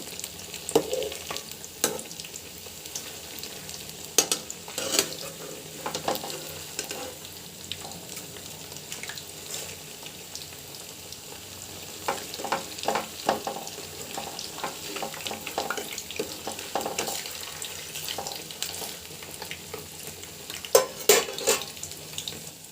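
Ripe jackfruit fritters fry in oil on a medium flame, a soft continuous bubbling sizzle with scattered clinks and scrapes of a utensil against the pan, close by and moderately quiet.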